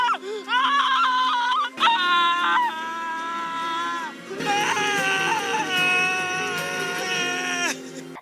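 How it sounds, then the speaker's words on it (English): A woman screams and cries while giving birth in a breech birth scene from the TV drama Anne With an E, with loud, sustained wavering wails that slide in pitch and come in several long bursts. "the mom was just screaming and crying and"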